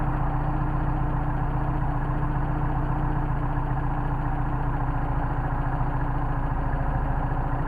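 A Mercedes 190SL engine on Solex carburetors idles in 29°F cold, a steady low rumble with even pulsing that stays constant and fairly close, with no talking.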